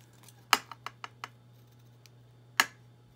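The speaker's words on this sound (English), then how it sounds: "If all else fails, use your scissors." Scissors snip paper card in a few crisp, close clicks, a quick run of short cuts followed after a pause by one louder snip, with no talk.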